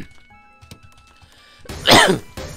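A single harsh cough bursts out close to the microphone after a few faint clicks and taps.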